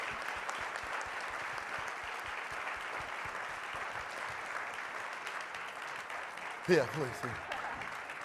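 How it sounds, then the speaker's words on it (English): An audience gives a sustained round of applause for panel speakers, dense and even clapping throughout, with a brief voice near the end speaking over it. "Round of applause to these wonderful colleagues here."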